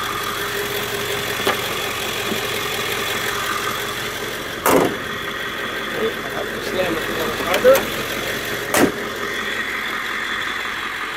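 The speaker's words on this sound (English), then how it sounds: "engine runs beautiful." The 7.3L Powerstroke diesel engine of a 1999 Ford E450 van idles with a low, even rumble, broken by a few faint knocks and clicks nearby.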